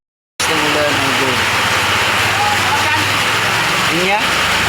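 A downpour of heavy rain roars loud and unbroken after a brief silent start, with a few faint voices mixed in beneath it.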